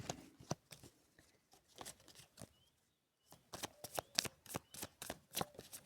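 Tarot cards being shuffled close by, riffled and slid in repeated sharp papery bursts with brief pauses between rounds, quiet and free of talk.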